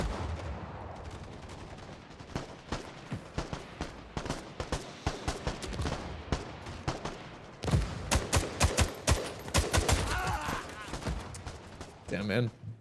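Gunfire in the cold-war tactical shooter '83 cracks out in sharp, repeated shots, sparse at first and then in denser rapid bursts, loud against a busy game background with a voice talking over it.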